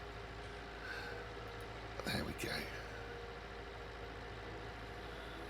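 A tractor engine in Farming Simulator 19 on an English Sussex farm rumbles steadily at idle throughout, with a brief surge of mechanical noise midway; someone speaks briefly over it.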